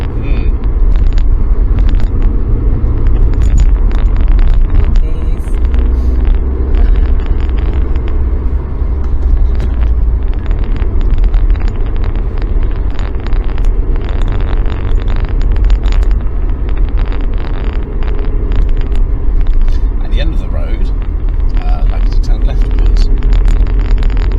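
A car rolls along a road during a mock driving test in Kettering, with a steady low engine and tyre rumble throughout while people talk over it.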